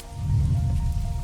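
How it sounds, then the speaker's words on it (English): A steady rain wash falls over a medieval village in Manor Lords, a soft continuous hiss with a low rumbling bed and no voices. "It's raining again."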